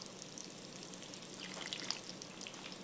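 Beef broth is poured into a crock pot as a faint, steady splashing trickle with a light sizzling, crackly texture running the whole time, close by and quiet, with no talking.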